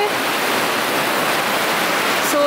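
Fast river water gushes out of rock inside a cave at the source of the Styx, a steady broadband roar that stays loud and unbroken throughout, with no talk over it.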